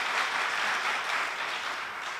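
A congregation claps together during a church worship service, a steady, dense, fairly loud wash of hands with no talking over it.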